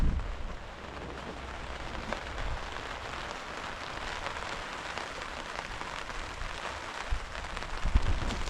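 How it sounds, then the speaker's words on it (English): Steady rain falls in the Medicine Bow National Forest near Vedauwoo, a dense even hiss of drops on surfaces throughout, with a couple of heavier drips or knocks near the end. "You can hear the rain."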